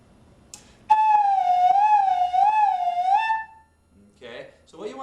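A single sustained flute tone produced by air split across the embouchure edge, held clear and steady for about two and a half seconds with a slight wavering pitch, loud and close, followed by quiet breathy sounds.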